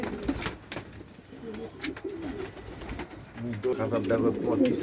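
Pigeons in a rooftop coop coo repeatedly in low, rolling calls while being given their midday feed, the cooing fairly close and continuing throughout amid light ambient noise.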